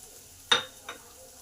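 Grated ginger hits hot oil in a pan over browned onions, giving two short sharp sizzling bursts that fade quickly, near and fairly quiet with no talk.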